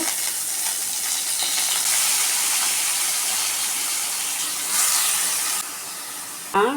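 Mustard seeds and curry leaves splutter in hot oil on a stove, a steady loud hissing sizzle with crackling, close up and without talk.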